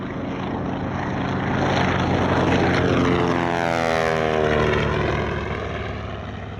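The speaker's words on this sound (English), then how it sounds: "Paul Bennett Airshows also provided their TBM-3E Avenger for the flying display, which flew briefly with an F4U-5N Corsair" A TBM-3E Avenger and an F4U-5N Corsair fly past at an airshow, their piston engines and propellers building to a loud, sustained drone with a sweeping pitch shift, then easing slightly as they pass.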